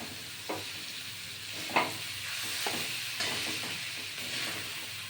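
Bottle gourd with salt, turmeric, green chilli and ginger stirred in a hot pan, a steady hiss of sizzling with periodic soft scrapes of the spoon, close and continuous.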